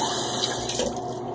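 Tap water runs steadily into a bathroom sink while the face is moistened before a wet shave with a RazoRock XXX Duro razor, a continuous close splashing rush with no talk.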